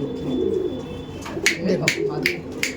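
Mongolgiri pigeons from Mongolgiri, Andhra Pradesh, coo in a short series of soft, close, repeated calls over a steady background hum, with a voice talking in the background.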